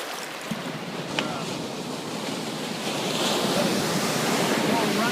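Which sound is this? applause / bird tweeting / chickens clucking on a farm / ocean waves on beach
ocean waves on beach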